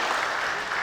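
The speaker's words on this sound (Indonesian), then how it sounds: "kita berikan tepuk tangan buat beliau" Audience applause at a leadership lecture fills the room as a steady, fairly loud patter of many hands, brief and continuous with no voices over it.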